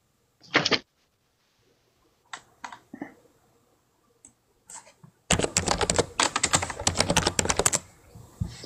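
Computer keyboard keys clicking under a phone resting on them, scattered isolated taps at first, then a loud dense burst of rapid rattling clicks, close to the microphone.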